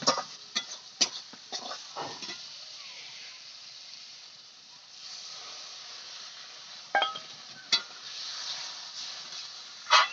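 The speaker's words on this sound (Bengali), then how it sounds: "এখন আমি জল দিয়ে দেবো" Water hits hot fried tomato, cumin and chili spice paste for a fish curry, giving a steady hiss and sizzle, with a few sharp clinks of a metal utensil early and near the end.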